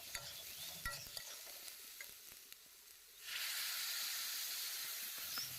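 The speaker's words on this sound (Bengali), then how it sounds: "এবার সব কিছু গুঁড়ো মশলাকে খুব ভালো করে সবজিটার সাথে মিশিয়ে নেব" Ground coriander and chilli powder being stirred into vegetables and greens in a frying pan: scraping stirs over a soft hiss, then a louder, steady sizzle fills the second half.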